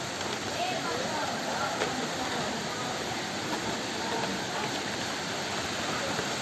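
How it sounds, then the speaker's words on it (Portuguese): A waterfall at a blue natural pool in a forest gives a steady, dense rush of falling water, constant and moderately distant, with no breaks. "Uma cachoeira ali."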